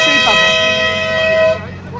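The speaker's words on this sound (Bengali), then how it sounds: "পেছনে গাড়ি হর্ন দিচ্ছে।" A vehicle horn sounds from behind on a mountain road near Lachung in North Sikkim, a sustained toot lasting about a second and a half over engine rumble before cutting off.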